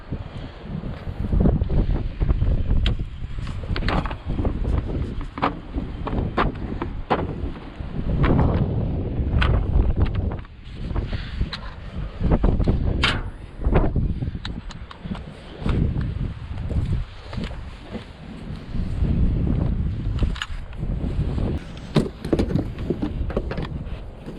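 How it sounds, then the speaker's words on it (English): Strong gusty wind buffets the microphone outdoors around a vehicle under repair, with loud rumbling surges and brief lulls and a few faint knocks, no voices. "This wind will get you sometimes."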